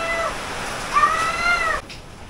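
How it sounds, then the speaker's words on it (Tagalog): A cat meows in a drawn-out, rising wail, one long cry that swells and then cuts off abruptly, fairly close and heard alone. "So may pusa pa. Ingay pusa."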